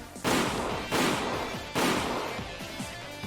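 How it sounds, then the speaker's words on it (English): Long-distance sniper gunshots in the Higurashi game, three loud sharp cracks roughly a second apart, each followed by a rumbling echo that tails off, with a heavy low boom. "This is a delay between impact and the sound of the gunshot."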